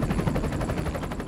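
Rapid gunfire and explosions from a military helicopter gunship bombardment in Marawi, a dense, continuous rattle of shots and blasts at steady loudness throughout the short stretch, with no talk.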